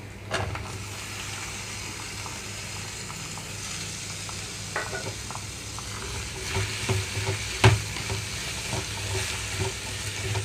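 Chopped ivy gourd pieces tipped into a pan of frying onion tempering, giving a steady oily sizzle with scraping stir strokes and a few clacks near the end, close and moderately loud with no speech.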